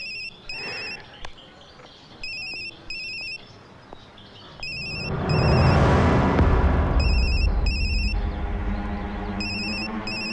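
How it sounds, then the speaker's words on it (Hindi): A phone ringtone chirps in repeated electronic bursts, close and clear, then continues over a swelling low rumbling boom in the background. "आपका फोन बज रहा है, उठाएंगे नहीं?"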